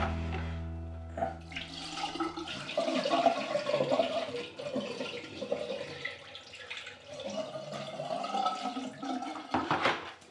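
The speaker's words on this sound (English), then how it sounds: "I'm going to pour another bucket of water down here for you so you can see how much faster it drains." A bucket of water is poured down a shower drain, a gurgling, splashing rush that fills most of the stretch and then drains away in uneven sloshing bursts, close and alone.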